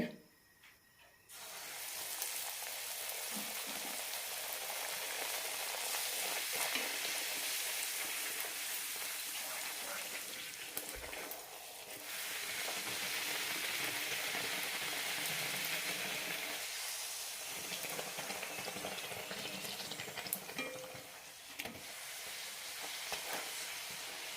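Poori frying in hot oil for a Kerala-style pal poori breakfast, a steady bright sizzle that holds for over twenty seconds with a brief dip midway, close and loud with no talking.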